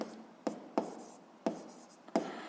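Chalk or marker tapping and scraping on a board while physics problems are worked out, five sharp strokes spaced irregularly over a quiet room, no talking.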